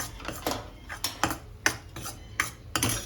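Wheat flour roasting in ghee in a pan, stirred with a metal spoon that gives a run of sharp clinks and scrapes against the pan at an irregular rhythm, close and fairly loud.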